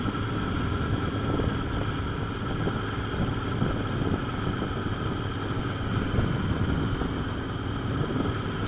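Royal Enfield 650 Interceptor motorcycle ridden over a bumpy road, its engine giving a steady low rumble with wind noise, continuous and fairly loud close to the rider.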